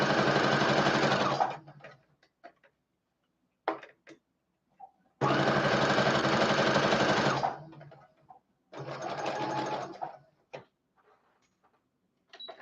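Sewing machine stitching a single row for an avant-garde dress, left unbackstitched with long thread tails: three loud, close, steady whirring runs of about two seconds each, separated by pauses filled with faint handling clicks.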